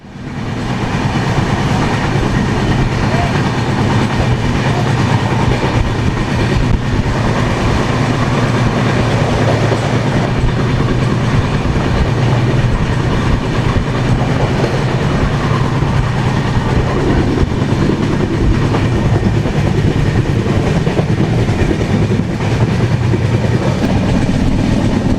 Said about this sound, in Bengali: কোকরাঝাড় থেকে বেরিয়ে যাচ্ছে 20505 নিউ দিল্লি রাজধানী এক্সপ্রেস